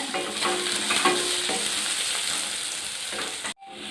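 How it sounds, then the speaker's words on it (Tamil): Chopped onions sauté in a hot pan for a Tamil raw banana dish, a steady close sizzle with small crackles that cuts off abruptly near the end. "கட் பண்ணி வச்சுருக்கிற வெங்காயம், நல்லா வதக்கிக்கலாம்"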